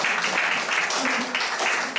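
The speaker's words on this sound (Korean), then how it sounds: "박수 한번 쫙 몰아주시고요" A church audience breaks into brief, dense clapping, a steady patter of many hands under a voice that keeps talking.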